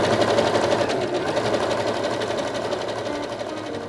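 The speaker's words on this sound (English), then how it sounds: "Here we go, stitching in the seam allowance." A sewing machine stitches a seam allowance with fusible thread in the bobbin, giving a close, steady, rapid mechanical whirring that runs without pause throughout.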